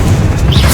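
A loud, close boom from a Confringo spell explosion in the video game Hogwarts Legacy, a single deep blast with rumbling low end filling the whole moment.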